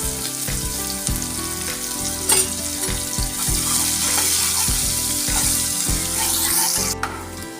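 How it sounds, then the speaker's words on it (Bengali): Onions frying in a pan of oil with caramelized sugar for a Bengali egg curry, a steady loud sizzle with scraping stirs and a brief splash near the end, no talk. "চিনিটা লাল হয়ে গেছে, আমি পেঁয়াজটা ভেজে নেব।"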